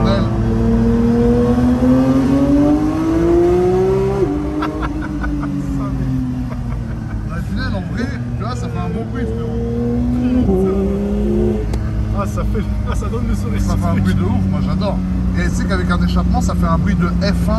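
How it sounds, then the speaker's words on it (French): A car engine revs hard inside a tunnel, its F1-like howl climbing and falling through several gear changes, loud and close, with people talking over it. "Ça fait un bruit de F1 pire qu'un V12 encore."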